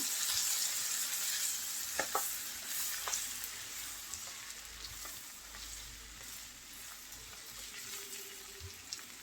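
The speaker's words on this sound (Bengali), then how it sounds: "নেড়ে চেড়ে মশলাটা মিলিয়ে নেবো" Spices (chili, coriander, turmeric and cumin powder) being stirred into pangas fish mashed in a frying pan: a steady, broad sizzle with occasional soft scrapes of the spoon against the pan, continuous and fairly close.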